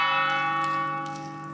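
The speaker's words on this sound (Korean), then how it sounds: "정각에 맞춰 고딕지구의 우아한 종소리가 울려 퍼진 것이다." A large church bell rings on the hour in Barcelona's Gothic Quarter, its tone sustaining and slowly fading, rich overtones hanging in the air after a strike.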